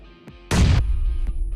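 A grenade explodes in PUBG with a single loud, close blast that cuts off sharply, then fades into a heavy rumble that lingers.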